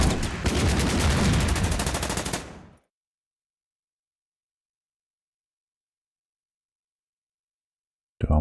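Gunfire from a tank in the wargame Order of Battle, a rapid rattling burst lasting a couple of seconds, loud and close, then silence with a brief sound at the very end.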